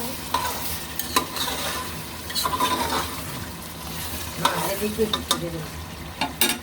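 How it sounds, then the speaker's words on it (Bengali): A spoon stirs and scrapes through biryani with salt and sauce in a sizzling pan, irregular clinks and scrapes over steady frying, close and alone. "এখন আমি এটা ভালো করে মিক্স করে নিব আবার।"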